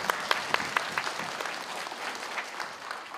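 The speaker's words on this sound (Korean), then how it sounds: "큰 박수로 부탁드리겠습니다" An audience at a district public hearing in Buk-gu, Gwangju claps, starting with a few sharp, loud claps and settling into a steady, fairly close round of applause that lasts the whole moment.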